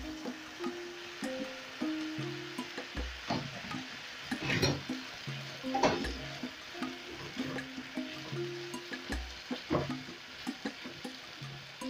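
Chicken liver sizzles and fries in a pan for a stew, with steady low crackling and repeated scraping clatter from stirring throughout, fairly quiet and close.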